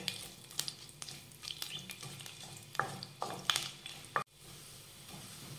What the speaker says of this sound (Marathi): हा लसूण तांबूस रंगावर परतून घेऊयात